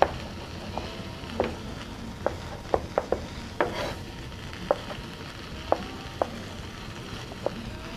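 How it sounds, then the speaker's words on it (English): Mushrooms fry in a skillet for a chicken pasta dish, giving a steady close sizzle with occasional scrapes and taps of a utensil stirring against the pan. "our mushrooms are sounding good"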